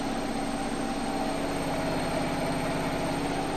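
A Gorenje WaveActive washing machine spins at high speed with an unbalanced load, giving off a loud, continuous roaring drone with a faint rhythmic low thumping beneath it throughout.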